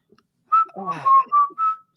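Someone whistles a short, bright melody, clear and close, with a few mumbled vocal sounds woven between the notes.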